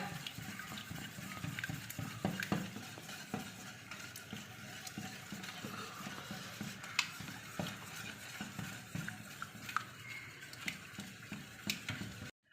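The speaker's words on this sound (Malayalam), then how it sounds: "മുട്ടയും കരിപ്പെട്ടിയും തേങ്ങാപ്പാൽ നല്ലതുപോലെ ഇളക്കി യോജിപ്പിക്കുക" A whisk stirs a mixture of egg, jaggery and coconut milk in a bowl, producing a quiet, continuous rhythmic scraping and sloshing with small ticking clinks, no talk.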